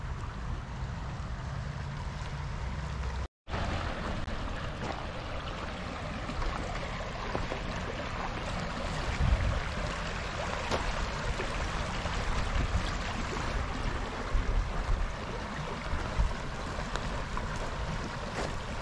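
Steady broadband rush of flowing water, like a creek running over rocks, continuous and fairly close, with a brief dropout early on.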